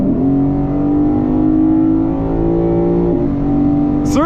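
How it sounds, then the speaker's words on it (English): A 2024 Lexus IS500 with a 5-liter V8 accelerates hard in Sport Plus mode, a loud close rising engine note climbing through the gears with a brief shift dip before pulling again. "A 5-liter V8 has just entered the chat."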